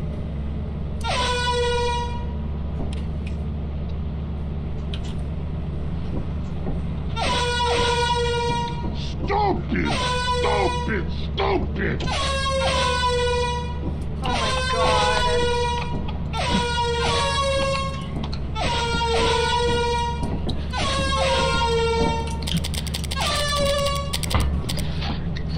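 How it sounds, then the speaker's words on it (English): Air horns blare repeatedly in a modded Lethal Company game, loud bursts in a stuttering rhythm over steady background hum, with players talking in between. "I see we found more than one air horn."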